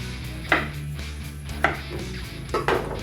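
A knife cuts through a piece of peeled ginger on a board, making three distinct, close chopping strikes spaced about a second apart over quiet background noise.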